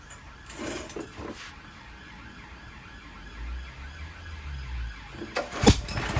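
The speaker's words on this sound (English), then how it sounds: "Bloody siren going off." A distant emergency siren wails faintly in the background, steady and low beneath other outdoor noise.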